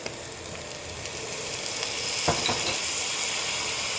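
Onion and garlic sizzle and fry in oil in a pan that already holds cooking juices. A steady, fairly loud hiss builds across the clip, broken by a brief sharper crackle partway through, with no voices.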